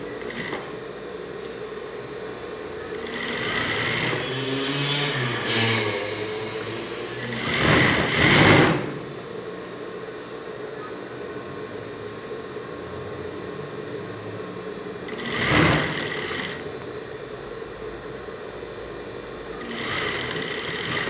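A sewing machine runs in bursts while stitching a 1 cm hem on women's boxers, with a long whirring run early on, then short sharp bursts separated by quiet pauses, close and clear, with no voices.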